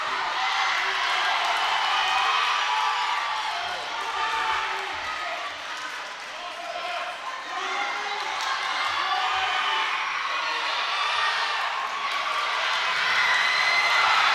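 A home crowd at a Lenape varsity wrestling match cheers and claps in a gym, a broad roar of voices and hands that swells and eases over many seconds, with an announcer talking faintly over it.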